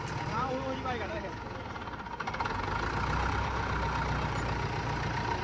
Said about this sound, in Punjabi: JCB ਵਾਲਾ ਇੰਜਣ ਹੀ ਆ